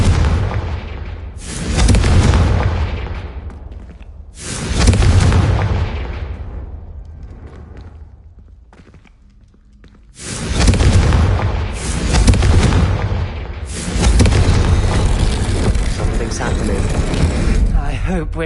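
Several loud, broadband blasts from the Confringo blasting spell in a Harry Potter video game, bursting in a spaced sequence with rumbling decay between them, along with spell noise and occasional speech.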